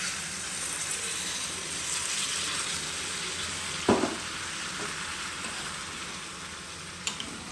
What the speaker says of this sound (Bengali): এবার এটার মধ্যে আমি জল দিয়ে দেবো।